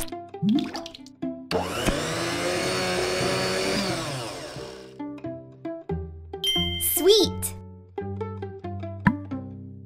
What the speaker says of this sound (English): Put 10 pieces of watermelon into the blender.